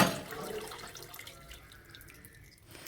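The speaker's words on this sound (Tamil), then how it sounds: "இந்த கொள்ளு தண்ணி ஆட் பண்ண பிறகு உடனே புளி தண்ணியும் ஆட் பண்ணிடலாம்" Tamarind water is poured into a pot of horsegram rasam, making a soft splash and trickle. The sound is faint and short, with no talking.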